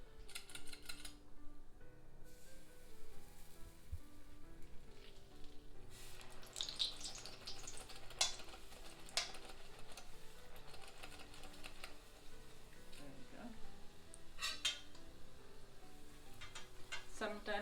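Rosa cookies deep-frying in hot oil with a metal mold held in the pan, a continuous low sizzle with occasional clinks and bubbling bursts, faint and steady throughout.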